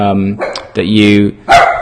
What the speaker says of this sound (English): when he hears dogs barking, he likes to bark too